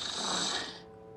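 A person snoring very loudly, one long raspy snore that swells and then fades out, close and alone.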